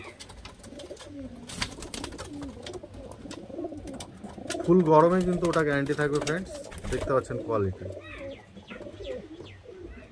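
Giribaz pigeons coo in repeated rolling bursts, loudest in the middle, while someone talks over them nearby throughout.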